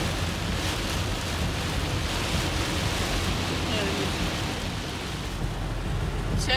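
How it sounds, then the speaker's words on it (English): Strong wind roars steadily during a South Florida storm, a loud, unbroken broadband rush that fills the whole stretch, with a brief rise near the end. "Check out that wind."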